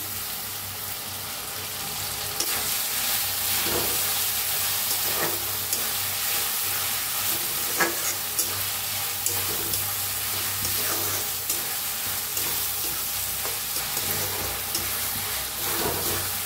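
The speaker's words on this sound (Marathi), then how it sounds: "छान भाजलाय बघा कांदा टमाटो।" Onion and tomato frying in a pan, a steady moderate sizzle with periodic spoon stirs scraping at regular intervals, close by and without speech.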